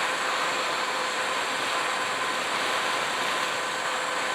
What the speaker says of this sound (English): That's wide open throttle right there.